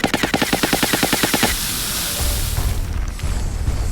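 Gunfire and bombardment in the XCOM Long War video game: a rapid, loud burst of machine-gun fire, then heavy rumbling blasts and low booming impacts.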